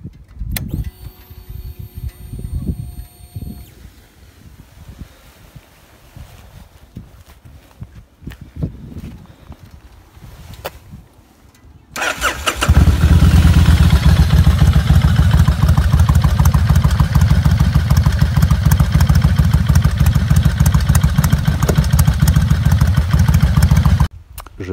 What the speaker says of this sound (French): je vais vous mettre un exemple de son de la moto, mais les pots